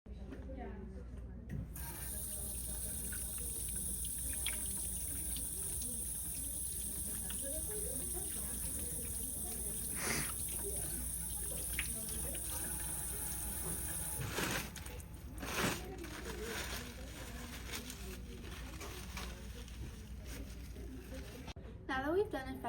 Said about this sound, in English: In this clip, you can see that I am thoroughly washing my hands to make sure I get every surface possible.